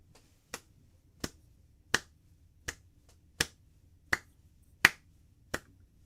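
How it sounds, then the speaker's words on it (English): Eight slow, deliberate single hand claps from one person, close and crisp, spaced roughly evenly with quiet pauses between, a deliberately weak slow clap. "That is my weakest slow clap"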